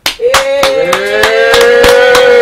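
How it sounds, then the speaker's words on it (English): Sparse, evenly spaced claps from a small studio audience on a talk show, about one every third of a second, under a loud sustained cheering voice holding a steady "yay"-like tone throughout. "There's some fake ass claps."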